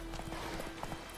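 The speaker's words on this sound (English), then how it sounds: "the horse is chasing me" Quick hoofbeats of a horse running in The Witcher 3: Wild Hunt, a rapid clip-clop rhythm over a low steady hum, brief and moderately loud.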